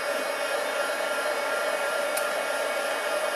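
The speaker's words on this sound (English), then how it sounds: "our heat gun, which I will heat up before I bring it up because the noise will be quite noisy" A steady, loud heat gun whine with a rushing airy hiss, running continuously without pause and no voices.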